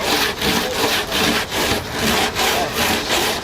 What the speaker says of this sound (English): We're going to need to sand both the top hat where it sits inside the channel.